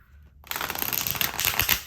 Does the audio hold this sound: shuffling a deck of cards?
yes